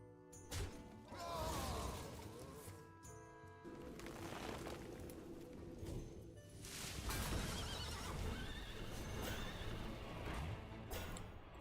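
In a video game, a horse whinnies loudly and repeatedly over dense clip-clop hoofbeats and clattering game sounds, continuous and busy throughout.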